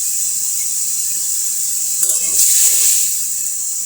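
Spice paste of chopped onion, green chilli, turmeric, chili powder and salt sizzles in a hot pan as it is fried, a steady bright hiss that swells briefly louder partway through, with no talk over it.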